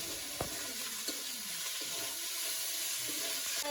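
Oil sizzling steadily in a pan during home cooking, a dense crackling hiss with occasional soft clinks and stirring scrapes, no talking.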